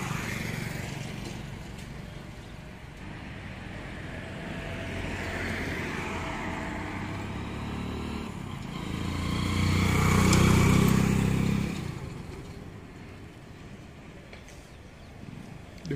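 Motorcycle towing a bike trailer at speed during a road test, a steady engine drone with road rumble that swells louder around the middle as it passes near, then eases back.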